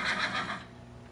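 A horse neighs in the game Minecraft, one bright whinny lasting about half a second, fairly close and alone, then fading into quiet background.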